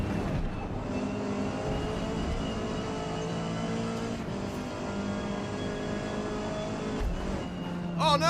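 A race car engine drones steadily during a multiplayer race in Forza Motorsport on PC. The tone holds a sustained, buzzing pitch with a brief dip near the end, at moderate level.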